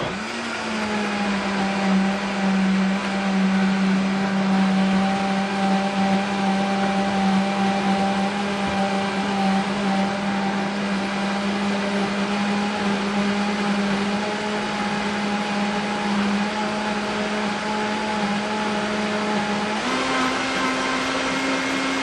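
Blender whirring through a fruit drink, a loud steady motor hum with a slight pitch shift near the end, running alone for over twenty seconds.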